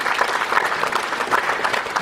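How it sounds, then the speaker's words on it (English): An audience at an agro processing forum applauds, dense steady clapping from many hands filling the room for two seconds. "And I think they deserve an applause."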